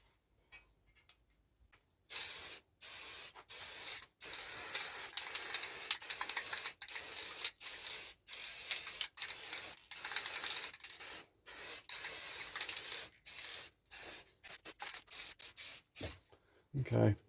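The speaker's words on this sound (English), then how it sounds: "So we're ready to spray it white." Rust-Oleum Ultra Matte White spray paint hisses from an aerosol can onto a costume mask in a run of short, sharp bursts, each a second or so long with brief gaps between, close and loud.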